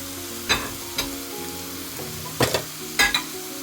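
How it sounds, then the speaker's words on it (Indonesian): A kilo of chicken feet fries in a pan with a steady sizzle under a few distinct thumps and scrapes from stirring or moving the pan, close by, with no speech. "Nah ini kemudian kita masukkan cekernya."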